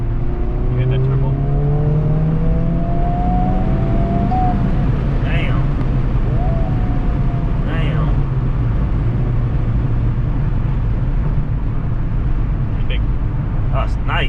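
Honda Civic Type R FL5 turbo engine pulling hard under acceleration, a steady loud cabin drone with rising engine tones, heard from inside the car while people talk.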